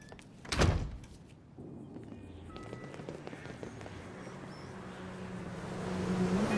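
A door shuts in Grand Theft Auto V with one heavy, close thud early on, followed by a low murmur of ambient background noise that slowly builds.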